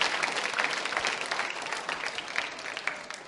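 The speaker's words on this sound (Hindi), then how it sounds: "तालियां जोरों से बजाइए" A quiz show audience at a schools competition claps steadily, a dense patter of many hands at moderate loudness with no voices over it.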